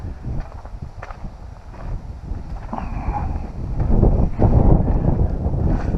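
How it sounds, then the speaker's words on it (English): Wind gusts rush past the microphone on a hiking trail at Jordan Pond, a steady low roar that swells louder toward the end, with faint footsteps beneath and no talking. "Ah, the wind. I'm glad it found us."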